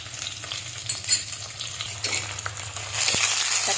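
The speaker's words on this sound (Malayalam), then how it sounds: "ഇത് നല്ലപോലെ വഴണ്ട് വരട്ടെ." Sliced onion with ginger and garlic sautés in a pan for a fish curry: a continuous close sizzle with intermittent spoon scrapes and clinks, swelling louder toward the end, with no talking.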